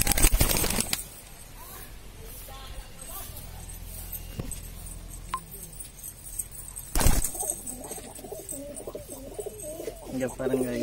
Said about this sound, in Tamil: இங்க நிறைய புறா கிளியெல்லாம் வளர்த்திட்டு இருக்காங்க